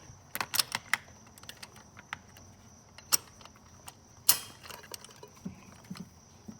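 A socket wrench works a spark plug on a Honda J-series 3.5 V6 engine, producing sharp metallic clicks and ratchet ticks in irregular bursts, with one louder clank near the end; no one talks.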